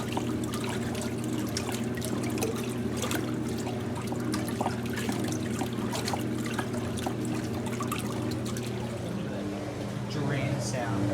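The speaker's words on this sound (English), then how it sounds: "Drain sound, that's impressive. Just how strong the pump is on this." Water drains forcefully from a pump, with a continuous trickling, gurgling rush and a steady low hum throughout.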